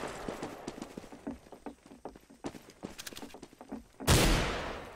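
Gunfire in the video game CS:GO, a string of muffled distant shots scattered over quiet background, then one sharp loud nearby blast near the end.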